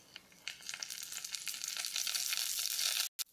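Mustard seeds and asafoetida crackle and splutter in hot oil in a home kitchen pan while cooking cluster beans sambar, a dense, steady close sizzle with sharp pops that builds over a few seconds before cutting off abruptly.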